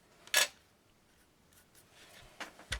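Scissors snip thread while making a scrapbook notebook, with one crisp close cut followed by quieter rustling and two more quick snips.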